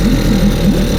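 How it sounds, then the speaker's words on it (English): A small two-stroke outboard engine on a Merry Fisher 695 boat idles steadily, loud and close, with a buzzy, slightly uneven putter and no voices. "You've got to love a two-stroke engine."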